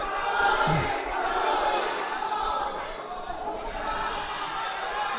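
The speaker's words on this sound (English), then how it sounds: "The crowd is growing wild." Loud, steady crowd roar from spectators at a Philippine combat championship fight, filling the whole stretch with dense cheering and shouting, with commentators talking over it.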